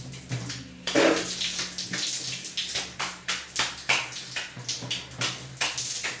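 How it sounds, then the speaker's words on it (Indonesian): Water splashes and pours while a toupee's hair is rinsed, making an uneven run of wet sloshes and rushing bursts that sound close by. "Terus bilas lagi."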